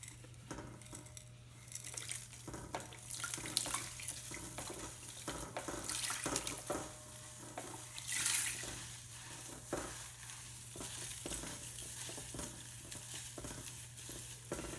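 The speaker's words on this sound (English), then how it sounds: "I'm going to pour the potassium hydroxide slowly into the beer." Potassium hydroxide is poured slowly into semi-melted, slushy beer while making cold process liquid soap, giving a soft continuous trickle with stirring, fizzing and clinking, quiet and close with no talk.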